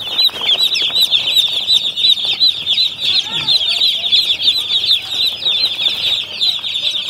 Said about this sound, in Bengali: পাচ্ছেন অনেক সুন্দর সুন্দর অনেকগুলো ব্রয়লার মুরগি